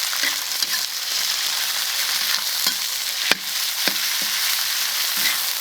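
Ginger stir-fries in a wok while eggplant sauce cooks for noodles, a dense, close sizzle with intermittent scrapes and knocks of a spatula against metal, no speech.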